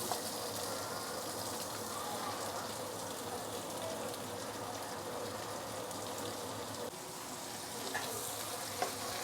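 Garlic and prawns frying in hot oil for sambal prawns, a steady, soft crackling sizzle that carries on throughout with a few brief pops, no voices.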